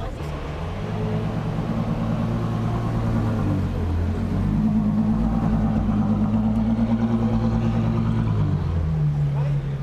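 Ferrari FF with Novitec modifications heard as a deep, steady engine rumble with strong low harmonics, rising slightly in pitch midway, close and loud throughout with talk over it.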